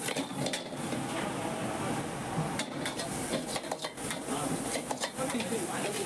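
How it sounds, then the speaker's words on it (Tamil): Fried rice ingredients are stir-fried in a pan at a busy Mount Road tiffin stall, with a constant sizzling hiss and irregular metallic clanks and scrapes of the spatula. Voices sound faintly in the background. "இப்போ ஃப்ரைட் ரைஸ்க்கு உண்டான ஐட்டம்ஸ் எல்லாம் போட்டுட்டு ஃப்ரை பண்ணிகிட்டே இருக்காங்க பாருங்கள்"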